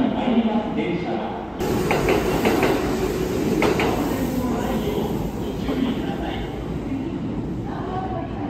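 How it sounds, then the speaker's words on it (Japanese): A Hinotori limited express train rumbles and clatters alongside a Japanese station platform with a hissing background, while a Japanese announcement voice talks over it. "次に1番乗り場に参ります電車は"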